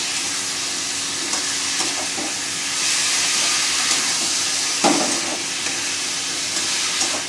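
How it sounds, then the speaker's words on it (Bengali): Sliced vegetables such as aubergine, ridge gourd and potato sauté in oil for a Bengali fish curry. They give a continuous loud sizzle and hiss with occasional stirring scrapes, close up and free of speech. "এটা এবার আমি কষাবো তেল ছাড়া অবধি।"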